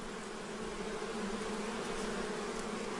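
Honeybees buzz inside a hive colony of tens of thousands, a dense steady drone that stays even and close with no pauses.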